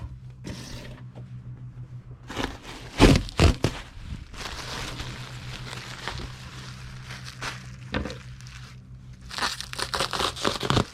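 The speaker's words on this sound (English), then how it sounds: "And now we need to get a sheet of bubble wrap and cut it in half." Sheet of bubble wrap being handled and cut in half, giving close crinkling, rustling and tearing with a few thumps, steady and moderately loud with no talk.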